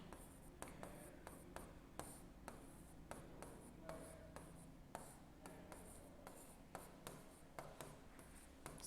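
Steady scratching of a pen writing by hand on paper, with repeated short strokes and faint taps in a quiet room, no talking.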